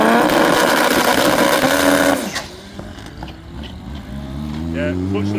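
A drag race launch: a loud, dense engine roar fills the opening two seconds, then cuts out to a quieter, lower stretch as a fresh rising engine tone climbs steadily toward the end.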